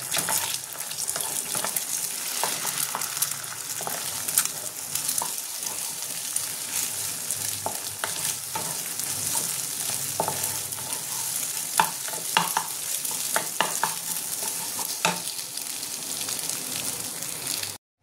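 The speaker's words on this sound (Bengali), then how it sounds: "এটাকে আমি ভুজিয়া করে নেব।" Egg bhujia is stir-fried in oil in a kadai, a constant close sizzle with frequent scraping and clicking of the spatula stirring through it, steady and alone without speech.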